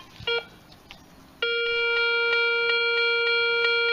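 Garrett Ace 250 metal detector sounding a steady, loud electronic tone over a dime and a quarter, pulsing rhythmically after a brief quieter beep and handling noise at the start.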